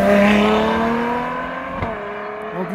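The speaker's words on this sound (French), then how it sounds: "En douceur, c'est beau ce petit V12." Ferrari F12 V12 engine pulling smoothly through its revs nearby, a loud rising-then-settling tonal howl with clear harmonics that fades slightly as the car moves off, at a supercar meet.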